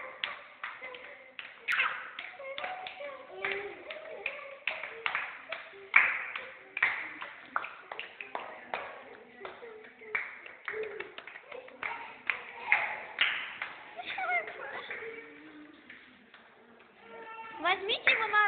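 Children clap their hands in an irregular, rapid patter of small, sharp claps, fairly faint, with children's voices talking and calling out throughout during play.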